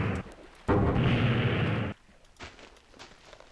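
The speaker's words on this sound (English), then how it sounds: "I can fire a larger explosion" A larger explosion fired from a charged-up hyperkinetic lens weapon in Minecraft: one loud, sustained blast of roughly a second, cutting off abruptly and followed by quieter scattered sounds.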